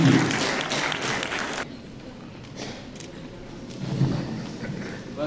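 Applause from an audience after a Christmas carol choir performance for teachers, students and parents: a short burst of crowd clapping at the start that quickly fades to quieter scattered sounds, then swells faintly again.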